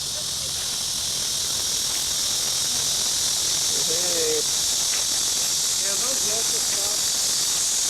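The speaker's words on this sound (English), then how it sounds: "I think there might be cicadas" Loud, steady high-pitched buzzing of cicadas fills an outdoor scene in Beijing, constant throughout, with faint voices and a few chirping calls underneath.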